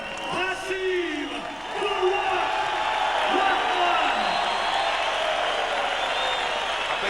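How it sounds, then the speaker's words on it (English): Crowd applauding and cheering a boxer's ring introduction at a heavyweight fight, a steady broad roar of clapping with whoops sustained throughout, an announcer's voice audible at the start. "A big round of applause"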